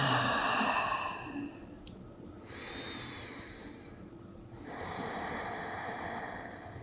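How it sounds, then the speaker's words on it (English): During a yoga relaxation pose, someone breathes deeply and slowly, with a long airy exhale, a pause, then another drawn-out breath, close and soft, with no talk. "And breathe."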